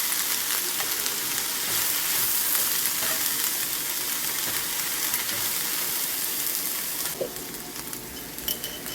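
Food frying in a pan with a steady, close sizzle as it is salted and stirred, with a faint scrape of the pan near the end; no voices.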